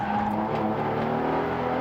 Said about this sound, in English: you can hear the tyres howling in protest at the treatment he's giving them